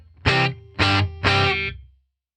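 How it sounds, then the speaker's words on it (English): Electric guitar through a Headrush unit with a very short room reverb, three punchy distorted chord stabs in a row, the last fading quickly into silence. "or just a very short room sound"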